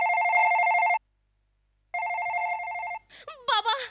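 A telephone bell rings in two loud electronic bursts separated by a second of silence, then voices start talking over the end in a Marathi comedy show scene.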